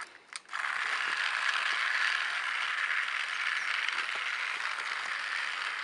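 A motorized Shane toy train engine starts after a couple of small clicks, then runs with a continuous whirring, gear-rattling buzz at close range, steady and alone without any talk.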